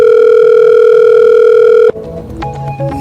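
A loud, steady telephone dial tone drones for about two seconds during a phone call that goes unanswered, then cuts off abruptly, leaving faint clicks and handling noise.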